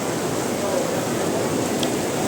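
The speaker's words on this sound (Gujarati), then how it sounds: "અત્યારે વરસાદ ચાલુ થઈ ગયો છે બહુ" Steady broadband hiss of heavy rain in Vadodara, dense and continuous like heavy rainfall on a surface, with a faint vehicle rumble underneath.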